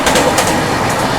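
A passenger train, the AP Express, runs at speed with a dense, steady rushing roar, loud and close, over a brief moment.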